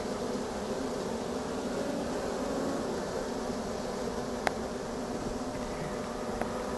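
A honeybee swarm flies around a hive, making a dense, steady buzzing drone at low to moderate volume, with a couple of brief ticks and no talking.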